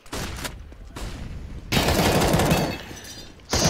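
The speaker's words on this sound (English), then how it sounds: "Some nice rifles and SMGs going out." Rapid rifle and SMG gunfire from an esports video game match, dense bursts of shots coming in waves, loud and continuous.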